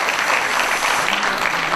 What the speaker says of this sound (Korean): 뜨거운 박수로 환영해주시길 바라겠습니다